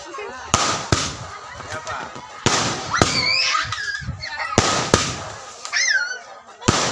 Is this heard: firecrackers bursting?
yes